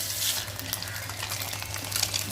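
Eggs frying in hot oil seasoned with salt and turmeric, a soft crackling sizzle with some stirring clatter, moderately quiet and continuous.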